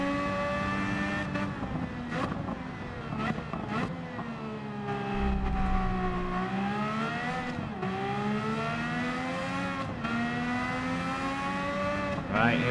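A race car in Gran Turismo 7 with its engine held near the rev limit, a loud, close, steady high-pitched whine whose pitch rises and dips with gear changes, while someone talks briefly over it.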